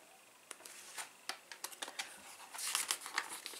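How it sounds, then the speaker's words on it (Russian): Pages of a 2016 Avon cosmetics catalogue being flipped, a run of quick papery flicks and crinkles, close and fairly quiet, growing busier toward the end, with no talk. "Листаем дальше."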